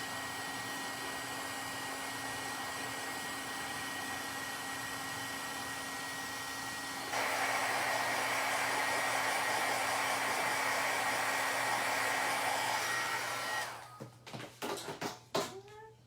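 A handheld heat tool blows steadily while melting clear embossing powder on a Christmas card, a constant whooshing hum that grows louder midway, then cuts off into a few small clicks and knocks.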